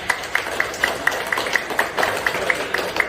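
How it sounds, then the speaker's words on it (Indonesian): Audience at a sales seminar applauding, a brisk, steady rhythm of handclaps sounding together in unison, fairly loud and close, with murmuring voices faintly underneath. "Tepuk tangan dulu untuk Anda semuanya."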